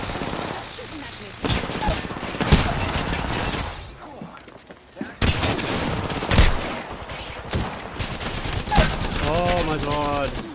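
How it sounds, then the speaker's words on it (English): Dense bursts of automatic gunfire from an Apex Legends ranked match, rapid volleys and single shots recurring throughout at close range, with voices talking over parts of the action. "Shooting at me."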